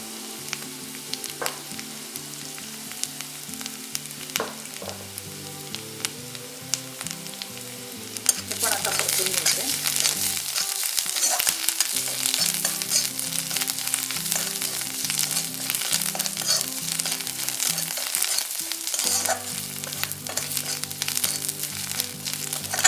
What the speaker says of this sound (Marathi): यात आता आपण आलं लसूण कोथिंबीर आणि खोबऱ्याचं जे वाटण होतं आपलं ते घालणार आहोत